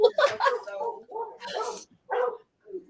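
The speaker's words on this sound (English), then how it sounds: "Dog drama." Dogs whimper and yip in a string of short, high, uneven cries with brief pauses between them, close and fairly loud, with speech mixed in.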